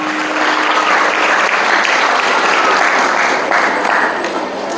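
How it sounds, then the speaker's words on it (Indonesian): Sustained applause from an audience at a Maulid Nabi motivational gathering in a modern Islamic boarding school for girls, steady and loud with a dense crackle of clapping throughout, no speech over it. "Boleh tepuk tangan buat beliau"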